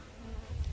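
Honeybees hum inside a winter beehive opened for oxalic acid fumigation: a low, faint, steady buzzing with soft swells toward the end and no voices.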